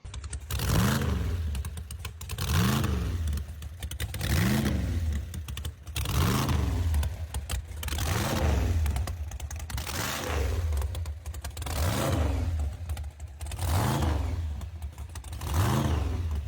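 A dual-blower supercharged Model A hot rod engine idles with a loud, lumpy lope: a deep rumble swells and falls in regular surges roughly every two seconds, steady and close throughout.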